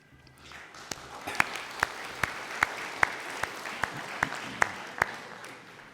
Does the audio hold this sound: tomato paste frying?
no